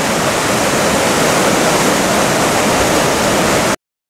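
Waterfall pouring with a loud, dense, even roar of rushing water close by, broadband and continuous until it cuts off abruptly near the end.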